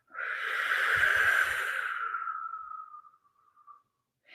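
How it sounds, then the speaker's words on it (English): A steady, breathy blow of air through pursed lips, whooshing for about three seconds before fading out, close and fairly loud with no talking. "then you blow it out through pursed lips"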